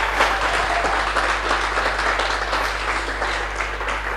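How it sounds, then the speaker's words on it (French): Audience applause at a gospel music show in Cameroon, loud and continuous clapping with cheering throughout, over a steady low hum. "On va t'accompagner en applaudissement."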